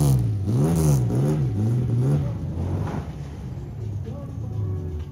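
A Chevrolet Caravan engine revs and accelerates as the car pulls away sliding sideways, a loud, close drone whose pitch wavers up and down before settling.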